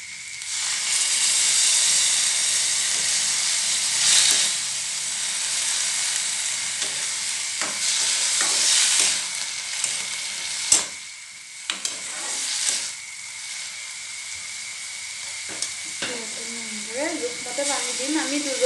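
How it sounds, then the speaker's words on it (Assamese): Spiced water poured into a hot pan of dal with mixed vegetables gives a steady, loud sizzle and hiss with bursts of steam and clatter, fading toward the end. "এতিয়া ইয়াতে মই পানী ঢালিম। প্ৰথমতে মছলা পানীখিনি ঢালিম।"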